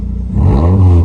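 A Suzuki Swift Sport with its exhaust backbox deleted revs briefly and loudly up close. The engine's low, throaty drone climbs in pitch across one short burst.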